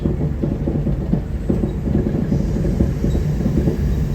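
A passenger train rolls along its rails beside the eastern shore of Lake Simcoe, a steady loud rumble of wheels with faint rhythmic clatter continuing throughout.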